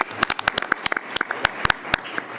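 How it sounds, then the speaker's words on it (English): Sparse clapping from a small audience at a Board of Education meeting honoring award winners, a few hands striking in uneven, sharp bursts over a short span. "Another round of applause for all of our award winners this evening."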